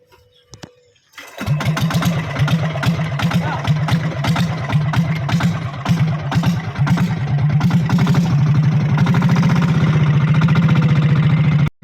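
After a quiet moment, a motorized wooden bangka boat kicks on and chugs loudly and steadily close by, a rapid rattling putter that runs without a break.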